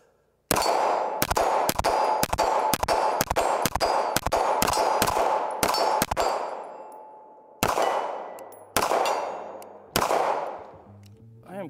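A CZ Shadow 2 Compact pistol fires a rapid string of about a dozen sharp shots, then three more widely spaced. Each report is loud and has a short ringing decay.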